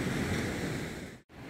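Ocean surf on a beach in Guinea, a loud broad wash of breaking waves with wind buffeting the microphone, cut by a sudden brief dropout near the end.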